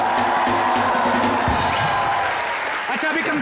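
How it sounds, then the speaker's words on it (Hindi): A studio audience at a comedy show breaks into loud, dense applause and cheering, a continuous roar of clapping with voices mixed in, steady and close for the whole stretch. "ओरिजिनल साजिद खान के लिए जोरदार तालियां"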